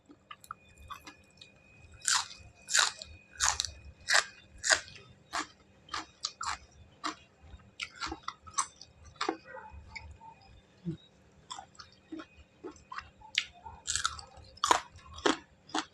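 Crunchy Thai spicy seafood salad is bitten and chewed up close, giving a steady run of sharp, crisp crunches at a loose rhythm against a quiet background.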